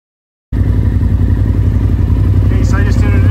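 A Polaris Turbo R engine runs steadily right after its first startup following an oil change, a loud, even mechanical drone that kicks in abruptly after a half-second of silence and holds constant, with faint chirps near the end.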